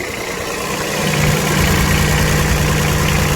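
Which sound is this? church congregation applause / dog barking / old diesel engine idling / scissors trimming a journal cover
old diesel engine idling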